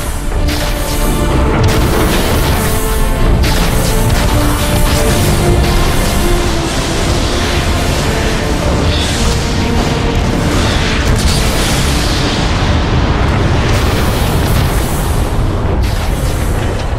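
Heavy, continuous booms and blasts roll loudly without pause as the giant robot Metroplex destroys a Decepticon warp cannon in the video game Transformers: Fall of Cybertron, with thick layered detonations filling the whole stretch.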